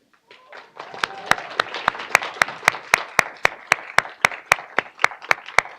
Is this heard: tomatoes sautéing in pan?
no